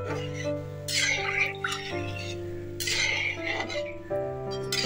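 Hot water is poured into egg curry masala cooking in a pan, making splashing, sizzling bursts. Steady background music plays underneath.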